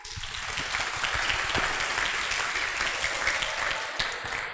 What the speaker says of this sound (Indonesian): Boleh beri tepuk tangannya sekalian?